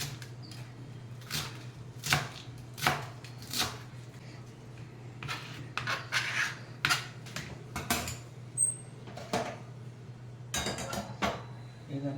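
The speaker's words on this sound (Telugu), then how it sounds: "ఇదిగోనండి కాళ్ళ కూడా సన్నగా ఇలా కట్ చేసుకొని" Knife finely chopping radish leaves and stems on a board, a series of sharp irregular cuts spaced a second or so apart over a steady low hum, with occasional clinks.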